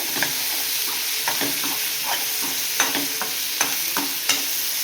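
Paneer fries in a pan with a constant bright sizzle, while a spatula stirs and scrapes it in irregular taps and strokes; close and steady, without speech.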